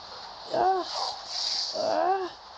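A dog in Minecraft gives two short, whining yelps a second or so apart, fairly close, over a faint steady hiss.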